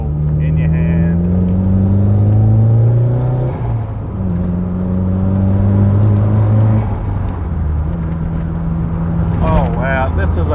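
Nissan 180SX driven with a steady low engine drone that rises and falls through shifts, engine note continuous and close, with a person talking over it.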